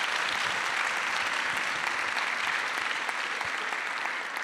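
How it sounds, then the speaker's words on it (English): Audience applause at an entrepreneurship summit, steady and even clapping from a crowd that carries on throughout at a moderate level, with no one talking over it. "give a big applause to all the people out there in the world"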